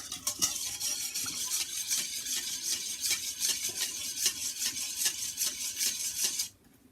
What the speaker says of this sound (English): So we're going to mix this so we make sure that the salt has been dissolved.